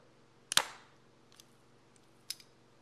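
A sharp snapping crunch as eyelet pliers punch through vinyl, followed by a couple of faint clicks in an otherwise quiet room.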